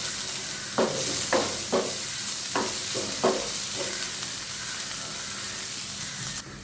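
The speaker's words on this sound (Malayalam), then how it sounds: "സവാളയൊക്കെ സോഫ്റ്റായി വരുന്നവരെ നമുക്കൊന്ന് വഴറ്റിയെടുക്കാം." Onions with crushed green chili and ginger sizzle in a hot pan, with a steady frying hiss broken by several short bursts of stirring scrapes, then a sudden drop near the end.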